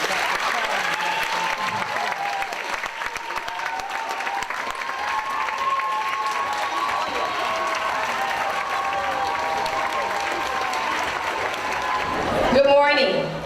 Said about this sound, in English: I'd like to give Dr. Johnson a round of applause